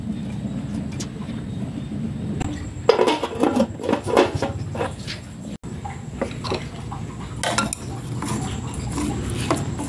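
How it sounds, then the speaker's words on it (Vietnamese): Food is stirred in a pot over a stove fire, with scraping and clinking of a utensil against metal, a burst of clattering in the middle over a constant background roar; no talking. "Trộn qua trộn lại cái lực lên lửa nha các bạn."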